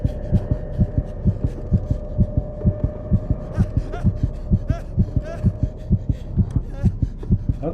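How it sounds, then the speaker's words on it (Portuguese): Heartbeat of a character in the video game Call of Cthulhu, a loud, regular double-thump throbbing at a steady pace over a low hum, with faint eerie tonal sounds above it. "Eu não sei se dá pra saber que o inimigo tá longe pelos batimentos cardíacos do Pierce"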